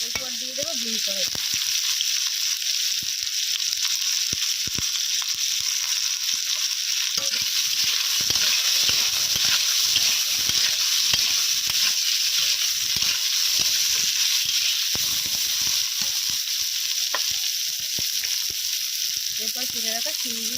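Beans sizzle and fry in a hot wok after cumin, kohlrabi and potato, with a steady broadband hiss and scattered stirring scrapes over about twenty seconds. A voice speaks briefly at the start and end.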